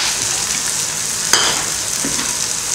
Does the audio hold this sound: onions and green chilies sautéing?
yes